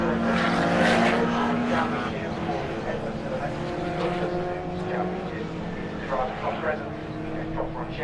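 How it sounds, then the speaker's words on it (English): Race cars drone along behind a safety car on a warm-up lap at Snetterton, a sustained engine roar with shifting pitch while a commentator talks over it. "safety car leading the way on this warm-up lap"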